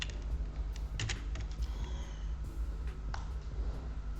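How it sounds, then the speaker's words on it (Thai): Soft, quick keystrokes on a computer keyboard, an irregular patter of clicks heard close over a faint steady background hum. "เขาจะพิมพ์ลงไปเนาะ"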